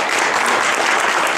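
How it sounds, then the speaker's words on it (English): Audience applause at a reunion business meeting, a dense, loud, even wash of clapping from the gathered crowd, sustained without pause or voices. "let's give him another hand of applause."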